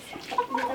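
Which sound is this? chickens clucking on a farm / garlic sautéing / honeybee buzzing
chickens clucking on a farm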